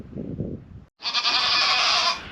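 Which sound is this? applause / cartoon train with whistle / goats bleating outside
goats bleating outside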